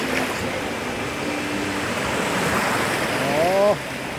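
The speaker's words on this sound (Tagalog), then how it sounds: "Oh, ganda ng dagat dito sa Talaodyong. Nag-wave siya." Sea waves wash in at Talaodyong on the West Philippine Sea, a steady surf hiss mixed with wind on the microphone. A voice is heard briefly, and a rising tone comes near the end.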